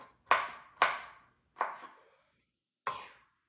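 A knife chopping garlic on a cutting board for soup, five crisp separate strikes spaced unevenly and heard close up in a quiet kitchen.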